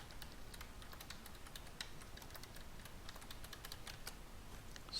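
Quiet, rapid keystrokes on a computer keyboard as an administrator password is entered, an irregular run of light clicks with no talking.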